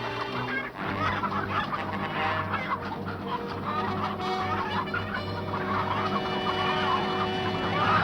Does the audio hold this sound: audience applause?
no